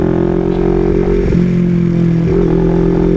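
A two-cylinder big bike engine fitted with a Villain exhaust idles loud and close with a deep, steady burble, broken by two short throttle blips about a second apart.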